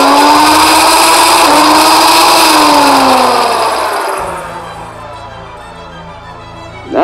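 Modded Adventure Force Spectrum flywheel blaster on six AA batteries, a loud, close motor whir that holds high and then winds down slowly, with a sharp burst right at the end.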